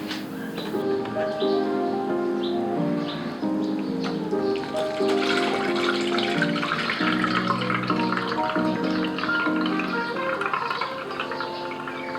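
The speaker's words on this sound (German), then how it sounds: "die Milch ist dick geworden und die gieße ich jetzt hier durch ein Sieb, in das ich ein Tuch gelegt habe" Thickened, curdled milk pours through a cloth-lined sieve while making homemade quark, a continuous wet gurgling and splashing flow with shifting bubbly tones, steady and close for the whole stretch.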